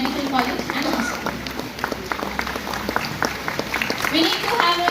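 Audience applause at a physiotherapy conference, dense continuous clapping from a crowd sustained for the whole stretch, loud and close.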